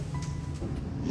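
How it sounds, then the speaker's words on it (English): Low, steady engine rumble, muffled and fairly faint, in a brief stretch with no voices. "It's the rumble of an engine."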